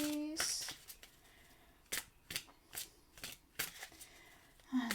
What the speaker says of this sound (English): And a bit more shuffling.